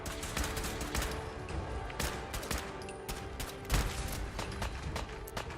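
Laser gun fire in the Fallout 4 video game, a dense, irregular volley of sharp shots crackling over a busy, steady background, moderately loud with no voices.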